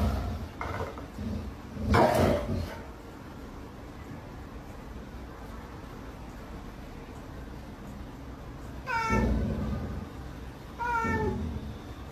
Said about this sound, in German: Die Katze will doch nur kuscheln.